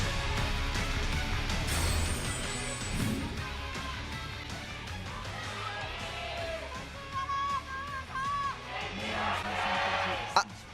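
Crowd noise from a League of Legends esports arena during an LCK match between KT Rolster and Kingzone DragonX, a steady, distant murmur with scattered cheers and shouts running beneath a commentator's voice.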